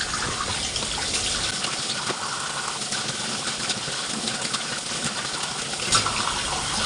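Tap water runs steadily and closely over small fish being washed in a kitchen, a constant splashing gush with no voices.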